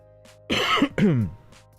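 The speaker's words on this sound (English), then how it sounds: "my coughs are, they kind of randomly creep up on me" A single person clears the throat and coughs in two harsh, close bursts, with a fainter breath or throat noise before and after against a quiet indoor background.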